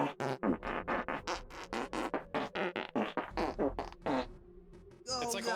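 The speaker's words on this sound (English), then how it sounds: "You have what, like 50 farts on one button?" Rapid string of soundboard fart sound effects, one after another in quick succession, loud and close, with a voice briefly at the end.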